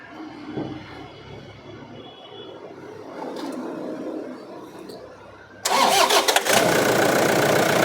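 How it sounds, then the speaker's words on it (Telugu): A 2012 Toyota Innova V seven-seater, after a quiet stretch with faint background noise, cranks and fires abruptly, then settles into a loud, steady idle close by. "ఒకసారి బండి స్టార్ట్ చెప్పు"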